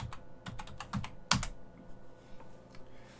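Keys clatter on a computer keyboard as a password is typed at a Linux server terminal, a quick run of close, crisp clicks with one louder burst midway before the tapping thins out.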